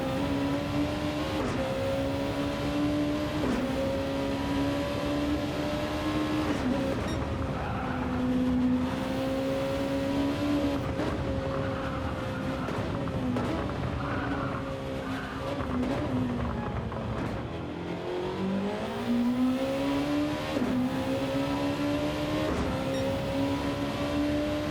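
An onboard lap in a Gran Turismo 7 race car during an endurance championship. The engine holds a loud, continuous tonal whine that rises and falls through gear changes and braking, with tyre squeal as it corners.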